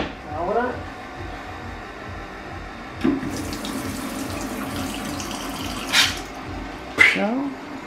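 Tap water pours into a glass at a home sink, a soft continuous trickle under nearby talk, broken by a few sharper splashes and clinks.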